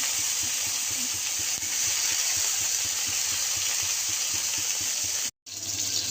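Chopped tomatoes sizzling in hot oil with black cumin and ginger for sambar dal, a loud, steady frying hiss with soft rhythmic crackles, cut briefly by a silent gap near the end.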